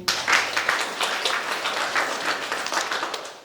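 A crowd applauds the performers of a Polish carol-singing show, with steady overlapping clapping from many people that holds an even level throughout.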